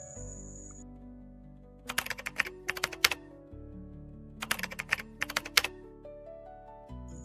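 Close computer keyboard keys tapped in two short bursts of rapid clicks while a bank account number is entered, with quiet pauses between bursts and no speech.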